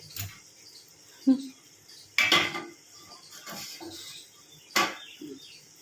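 A metal stand set into a pot of just-boiled water, giving a few distinct metallic clanks and scrapes against the pot spaced a second or two apart, close and moderately loud in a quiet kitchen.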